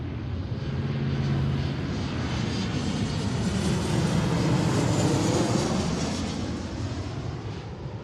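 An Alaska Airlines jet in a special honoring-veterans livery, arriving at Seattle on runway 34L from Denver, passes as a broad, steady engine roar that swells and fades slowly, loud and alone.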